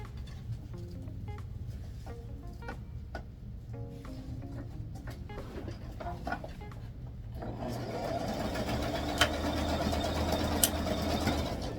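Sewing machine stitching a Barbie doll tutu, starting faint and then running steadily louder and continuous through the second half, with small handling clicks before it.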